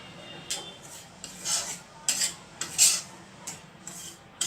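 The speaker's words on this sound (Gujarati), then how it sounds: "એને ધીમા તાપે શેકી લઈશું" Flour roasts in ghee in a pan over a low flame while a spoon scrapes and clinks against the metal in irregular bursts, close by, over a quiet background with no speech.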